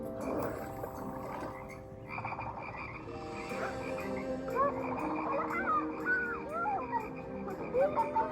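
Frogs croaking in a chorus of short chirping calls that rises over steady background noise, moderately faint, with voices faintly present underneath.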